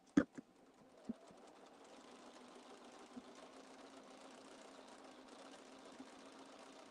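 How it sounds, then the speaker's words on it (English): A sewing machine runs steadily, stitching the top line of a quilt. The low mechanical hum is continuous and fairly quiet, with a few sharp clicks near the start. "So now we are stitching the top."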